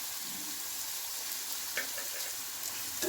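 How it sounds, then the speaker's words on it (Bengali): Boiled pasta fries in a pan as a little salt goes in, giving a faint, steady sizzle with a few small crackles near the end. "ভাজা হচ্ছে, এর মধ্যে আমি একটুখানি নুন অ্যাড করলাম"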